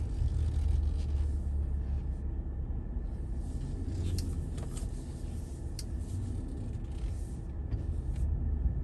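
A car creeps along slowly in the dark, giving a steady low engine and road rumble with faint higher ticks and clicks from the cabin, continuous and even with no talking.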